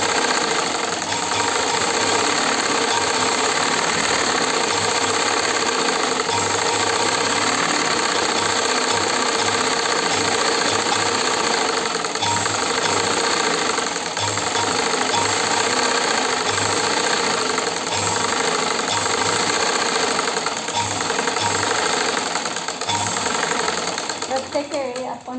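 Sewing machine stitching the seams of a petticoat, a steady continuous mechanical whir with a faint repeating knock that runs unbroken throughout at close range, with a voice talking over it.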